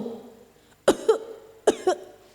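Two separate coughs, each a sharp double burst, sound close and clear with quiet gaps between them and no speech.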